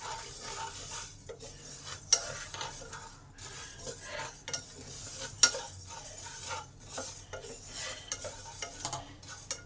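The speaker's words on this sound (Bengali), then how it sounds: "সবার প্রথম প্যান গরম হলে প্যানে দিলাম ধনে, কারণ ধনেটা ভাজতে সময় লাগে বেশি।" Coriander seeds dry-roasting in a hot pan over medium heat, stirred with a utensil that scrapes and clinks against the metal in an irregular rhythm, with a soft crackle and no talk.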